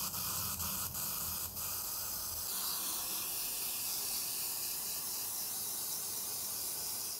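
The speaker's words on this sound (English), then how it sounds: "Gonna airbrush it, and got this siphon-fed airbrush here ready to go." A siphon-fed airbrush spraying paint onto a prop shield, giving a continuous close hiss with a few brief dips early on, then a steady, unbroken spray to the end.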